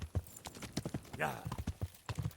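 Horse hooves clip-clop in a rapid, even rhythm while riding in Kingdom Come: Deliverance, with a brief vocal sound partway through.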